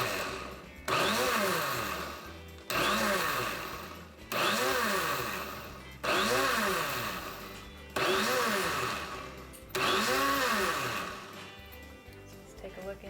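A kitchen blender pulses goat's milk lotion in five short bursts, each motor whir rising sharply and easing off before a brief pause, fairly close and loud.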